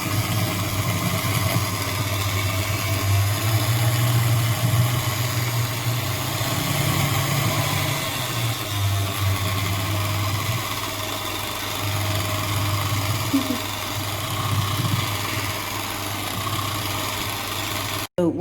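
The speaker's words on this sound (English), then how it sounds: "now we're going to whisk this up and so it's all together" An electric whisk mixes shortbread dough ingredients, making a continuous buzzing motor drone that holds steady and close for the whole stretch without any talk.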